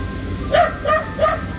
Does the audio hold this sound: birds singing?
no